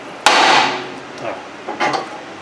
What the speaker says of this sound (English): you can bang this with a hammer and that usually pops right out